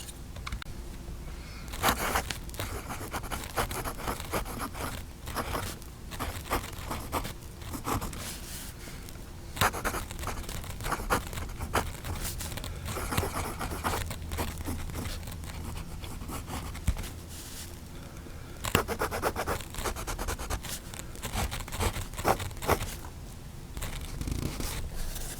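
A fountain pen from a PenBBS 492 magnetic filler glides across paper, a continuous close scratchy rustle of nib strokes running throughout with small pauses between words, no voices.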